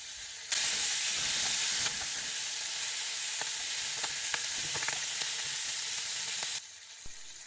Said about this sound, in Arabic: وورق الغار بنقلبهم تقليبة خفيفة